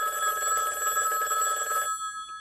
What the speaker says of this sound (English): Harley, silence your phone